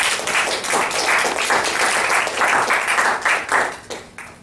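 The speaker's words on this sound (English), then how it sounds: "Let's give Dan a big applause." A meeting audience gives Dan Ringgold a round of applause, dense, loud clapping from a roomful of people that swells and then tapers off near the end.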